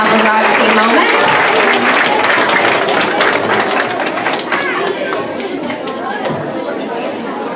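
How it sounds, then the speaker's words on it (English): Audience applause and cheering for nominated third graders at an elementary school awards ceremony, a dense, steady wash of clapping mixed with crowd chatter that fades slightly toward the end. "Let's give them a round of applause and a paparazzi moment."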